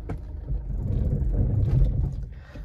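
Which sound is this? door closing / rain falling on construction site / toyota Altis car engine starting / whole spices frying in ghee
toyota Altis car engine starting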